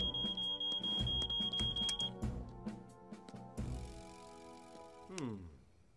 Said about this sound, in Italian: io non credo che il rilevatore di fumo sia scattato da solo